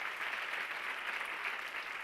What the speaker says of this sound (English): these claps are for the soul